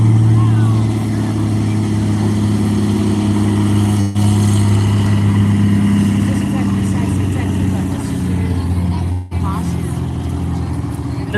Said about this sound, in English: Here comes Rod Hansen in the 185 for his first landing